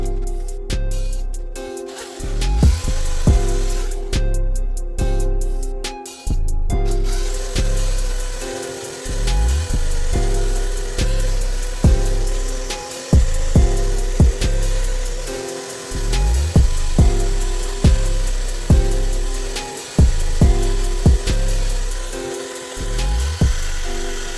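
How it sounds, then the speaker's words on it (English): A wire brush scrubs rust off a wrecked Toyota Corolla engine in long, repeated rasping strokes, loud and close, with a steady back-and-forth rhythm and short pauses between passes. "Now I'm going to finish off using a wire brush."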